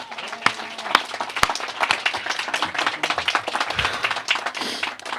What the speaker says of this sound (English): Can we get a round of applause for those guys?